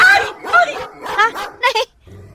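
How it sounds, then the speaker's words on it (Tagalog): A dog barks close and loud in a quick run of sharp yipping barks, ending in a short whimper. "Nagtaon lang ti aso?"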